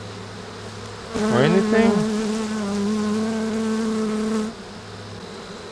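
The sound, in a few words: Honey bees buzzing at an open hive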